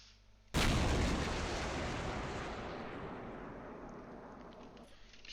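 A single heavy turret cannon blast in the Space Engineers video game, fired from a battleship, with a sudden loud onset and a long rumbling decay over several seconds, no talk over it.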